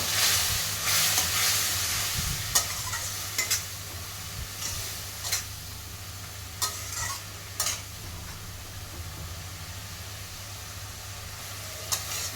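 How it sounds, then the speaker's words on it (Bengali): Spice paste with ground cumin and a splash of water sizzles in a pan for a rui fish curry with elephant foot yam, under a steady hiss, with occasional scrapes and clinks of a spoon stirring, close and without talk. "মশলাটাকে ভালো করে আমি কষিয়ে নেবো"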